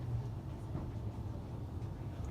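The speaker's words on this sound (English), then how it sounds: "This is the tram train service to Cathedral." Faint, steady rumble of a Sheffield Supertram tram train running on rails toward Cathedral, heard from inside with an even low drone.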